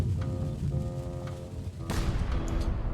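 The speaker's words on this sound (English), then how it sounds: "Ready for cannon firing." Cannon fire in the Return to Monkey Island video game: a dense game soundscape with a sudden loud blast near the two-second mark, followed by a rumbling, crackling tail.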